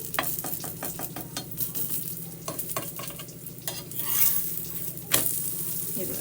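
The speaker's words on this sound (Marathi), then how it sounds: "तर परत याला पलटी करून घेऊ दोन्ही साईडनी छान असं भाजून घ्यायचं आहे आपल्याला" A cabbage paratha roasts on a pan while being flipped and pressed, with soft sizzling and a run of rhythmic scraping and tapping strokes, then a sharper clatter near the end.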